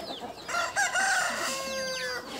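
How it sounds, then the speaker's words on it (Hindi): A Ghagus rooster crows loudly and close by, with other free-range desi chickens clucking and crowing around it in a busy farmyard. "ये जो सामने बड़ा मुर्गा दिख रहा है ये घाघस मुर्गा है"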